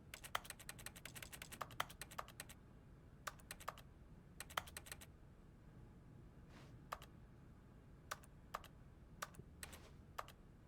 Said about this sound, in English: I'm typing on this toilet.